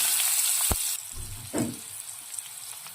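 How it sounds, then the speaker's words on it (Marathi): Onion and asafoetida sizzle in hot oil in a pan, a steady close frying hiss with a couple of soft clinks and stirring sounds, and no talk. "आता तेल तापलेलं आहे आणि आपण ह्याच्यात हिंग घातलाय आणि कांदा,"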